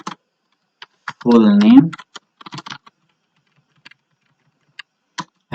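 A computer keyboard types out web form code in sparse, scattered keystroke clicks with short gaps, while a voice briefly speaks.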